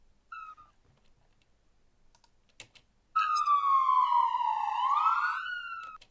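A police siren recording plays back after a couple of short chirps and scattered clicks, then sweeps loudly and steadily for about three seconds, rising and falling in a smooth wail with no voices.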